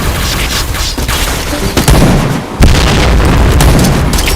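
Grenade blasts in the shooter game Point Blank boom loud and close, with a heavy burst near the middle and another soon after, set against continuous crackling game noise.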